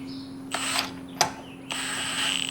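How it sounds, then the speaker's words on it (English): Impact wrench at a low torque setting snugging lug nuts on a Toyota Corolla wheel, a few short mechanical whirring and ratcheting bursts close by. "we're gonna put our impact to a low torque setting"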